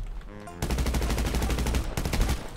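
Gunfire exchange in the GTA RP video game: a dense, loud burst of rapid shots that starts abruptly and runs continuously for about a second and a half, then a brief gap and another close, heavy volley.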